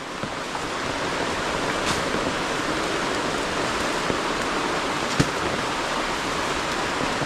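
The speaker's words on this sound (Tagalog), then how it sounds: "Opo, naulan po talaga." Steady rain pouring outdoors, a dense, even hiss of drops on surfaces that continues unbroken for several seconds, with one or two brief louder taps and no talking.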